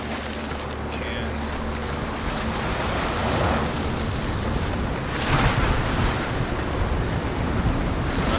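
Waves wash and churn as someone wades into water in Hellblade: Senua's Sacrifice, a steady roar of surf and splashing with wind-like hiss and surges rising midway and near the end.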